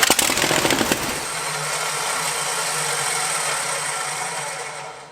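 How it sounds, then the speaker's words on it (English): A Dodge Ramcharger truck engine with an unbolted, loose exhaust revs hard with a rattling burst, then settles into a steady, rough idle with a raspy, unmuffled drone. "She's a runner. It's loud because there's no bolts on that exhaust over there."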